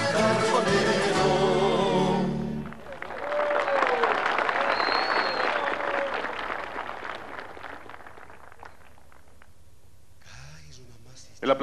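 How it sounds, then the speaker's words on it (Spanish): Audience applause and cheering after a traditional Cochabamba folk ballet performance at an outdoor public event in Sacaba, Bolivia, loud and sustained for several seconds, then fading as a voice speaks. "El aplauso fuerte nuevamente para el ballet Tradiciones de mi tierra de Sacaba"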